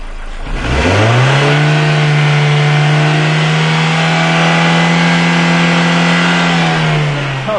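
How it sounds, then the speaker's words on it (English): A 2000 Ford Escort engine with a suspected vacuum leak revs up loudly and holds a strained, steady drone for several seconds, then sags as if about to stall; close and alone, no talk. "Oh, the engine's going to die"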